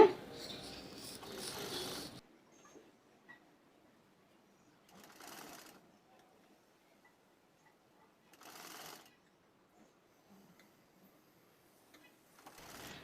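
A sewing machine stitches a folded hem on the wrong side of a baby frock for a 2-3 month old, running in a long opening burst and then in short separate bursts between pauses, close and clear.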